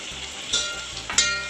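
Food frying until reddish in a pan for a masala dosa meal crackles in a close, steady sizzle, with two brief louder bursts of spatter or stirring.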